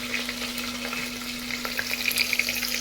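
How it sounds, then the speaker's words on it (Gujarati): Green vegetables such as cabbage, potato and onion go into a hot frying pan for khichdi, giving a steady close sizzle with faint stirring scrapes. "હવે આપણે એમાં નાખી દઈશું લીલા શાકભાજી"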